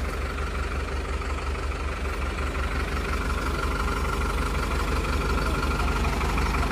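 A tractor engine idles steadily nearby in a remote Nepali village near the China border, its low, constant rumble filling the clip without talk.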